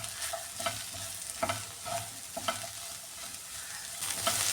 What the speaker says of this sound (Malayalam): ഇത് ഒന്നുകൂടെ ഇളക്കി കൊടുക്കാം.